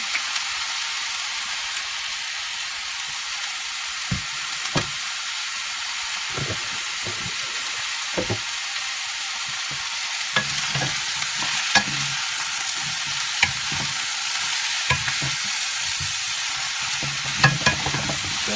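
Brussels sprouts stir-frying in oil in a pan hiss in a steady, loud sizzle, with scattered scraping and clicking stirs breaking through now and then, close and without talk.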